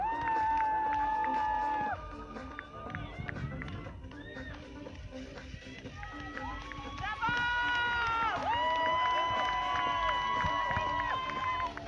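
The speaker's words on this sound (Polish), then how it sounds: "Wielkie brawa!" Spectators cheer and applaud as runners cross the finish line of the 5th PKO Białystok Half Marathon, with a lively, moderate crowd under a loud announcer's voice.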